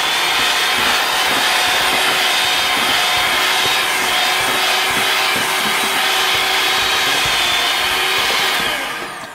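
An electric mixer beats cookie dough in a kitchen with a constant loud whirring motor hum and a slight gritty churn, running steadily before winding down at the end.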